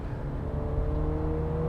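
A Mini GP3 engine holds a steady, loud rev with a droning tone after a downshift into a lower gear, heard close up from inside the car.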